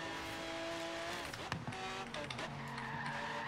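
Race car in a desert and city racing video game braking hard, its tires skidding and squealing over a steady engine drone, loud and close, with harmonic engine tones sweeping downward.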